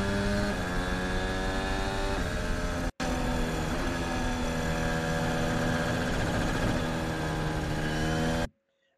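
A Red Bull Formula 1 car engine at Abu Dhabi 2021 screams at high revs with a slightly rough, uneven, wavering note, dropping for a split second before surging on, then cutting off.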